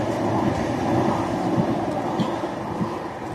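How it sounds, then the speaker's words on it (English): Tram rolls past a park at night, a steady loud low rumble with faint rail clatter throughout and no speech. "Here's a tram."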